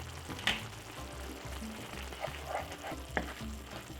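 Jerk prawns with garlic and jerk seasoning fry in a pan with a steady close sizzle, broken by a few sharp crackles and stirring scrapes, no voices.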